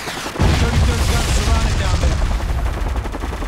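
Dense gunfire from the shooter game Spec Ops The Line starts abruptly and continues as a loud, continuous rattle of rapid shots with booming impacts, close and filling the whole stretch.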